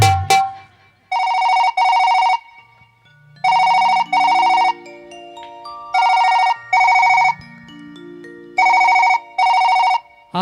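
A telephone rings in repeated double bursts, four pairs in all, with falling electronic tones sliding between the rings, during a Bhojpuri stage dance show.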